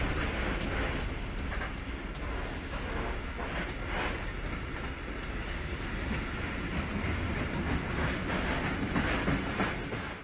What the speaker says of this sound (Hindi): स्वीडन से यूक्रेन को भेजे गए हैं टैंक, ट्रेन के जरिए यूक्रेन भेजे गए हैं टैंक